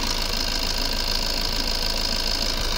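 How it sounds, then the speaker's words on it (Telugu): A used diesel car's engine idles steadily with a smooth, even hum and fine mechanical ticking, continuous and fairly close, with no talk over it. "ఇంజన్ సౌండ్ కూడా చాలా నీట్ ఉంది సార్"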